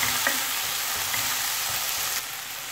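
Tomato and ground paste sautéing in a pan for an aloo palak, a continuous close hiss and sizzle with a faint spoon scrape or two, steady and moderately loud, then dropping slightly near the end, with no voices.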